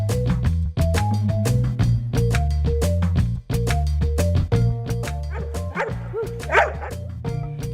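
A Labrador Retriever service dog barks in short bursts over steady musical background, the yips standing out briefly near the end.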